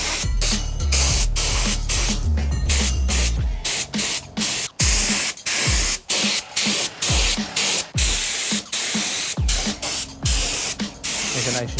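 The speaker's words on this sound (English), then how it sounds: "We've got the gun set up, colouring. We are going to go on nice and light." Spray gun laying light coats of green paint on a car in a workshop, a steady loud hiss broken by frequent short pauses as the trigger is released, with a low mechanical hum early on.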